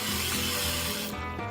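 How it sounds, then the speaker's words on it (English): An oil mister sprays avocado and olive oil onto a hot pan in one loud continuous hiss that cuts off sharply near the end. "so I'm just gonna lightly spray my pan."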